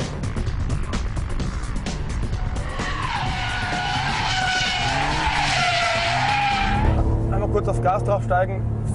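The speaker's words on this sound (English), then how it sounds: "The slightest touch of gas and right away there's oversteer." A Ferrari 575 M oversteers under throttle, its tires squealing loudly in a long wavering skid over the roaring engine, while someone talks over it.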